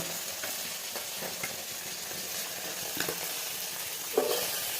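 A steady, crackling sizzle of small tapudi fish frying in a pan, with a few soft scrapes and clinks of stirring.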